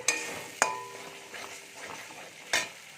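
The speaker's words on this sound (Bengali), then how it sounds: "মশলাটা কষানো হয়ে গেছে, মশলাটা চার সাইড থেকে তেল ছেড়ে দিয়েছে।" Spice paste sizzles in hot oil as it is stirred in a pan while cooking dudh aloo dum, a steady close frying hiss broken by a couple of sharp spoon-on-pan clinks.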